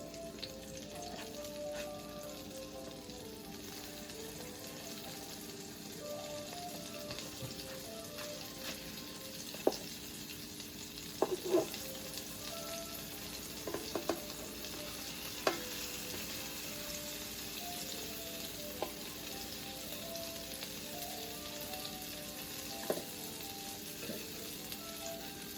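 Salmon patties sizzle quietly in hot oil in a pan, a steady soft crackle broken by a few sharper pops and spatters, with no voices.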